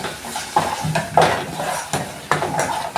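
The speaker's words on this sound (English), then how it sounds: "So you put the salt and then you mix it. And then you mix the meat together." Salted beef mixed in a pot for a home-cooked beef dish, with several scraping and clattering stir strokes and soft wet shuffling, close and moderately loud, no voices.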